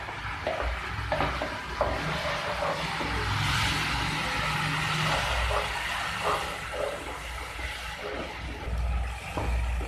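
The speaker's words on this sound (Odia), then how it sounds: "ମସଲାଟା ଟିକେ କଷିବା ଭଲ କି।" Ground ginger, garlic, tomato and onion masala paste frying and being stirred in a pan for an Odia paneer potato curry, a steady sizzle broken by scraping stirs and soft clatter, close up with no talk.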